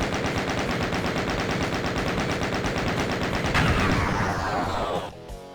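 Rapid sustained gunfire blasting an Arachnotron in Doom Zero Map 18, a dense loud stream of shots for about five seconds that cuts off abruptly near the end.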